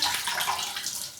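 Tap water runs from a faucet onto a flannel being filled with fresh water, a continuous close hiss and splash with no talking.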